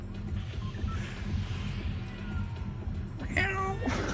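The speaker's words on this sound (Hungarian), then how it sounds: "macska nyávogás várható" A cat meows indoors during a Fortnite gaming stream on PS5, with one clear, drawn-out meow near the end rising above a steady background of game sound and faint voices.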